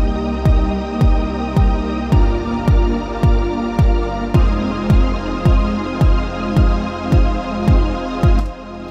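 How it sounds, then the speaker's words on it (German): A steady bass drum thumps on every quarter-note beat, about two per second, over a sustained Alchemy synth pad that holds underneath throughout. "was du hier hörst, ist einfach so eine Bassdrum auf jede Viertel und einen Logic-internen Flächensound von Alchemy"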